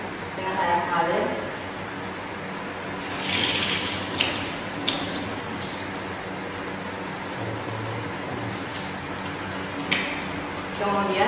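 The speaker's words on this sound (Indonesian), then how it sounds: "kemudian preparat dicuci dengan air mengalir" Tap water runs and splashes while a microscope slide is rinsed during tuberculosis sputum testing, coming in several bursts of flowing and dripping water with faint clinks, under a person talking.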